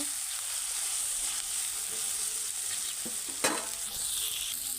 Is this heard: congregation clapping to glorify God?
no